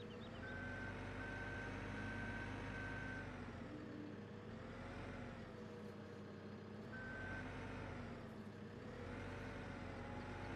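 A skid loader (Bobcat mod) in Farming Simulator 17 reversing, with intermittent electronic backup beeps over a droning engine that rises and falls, no voices.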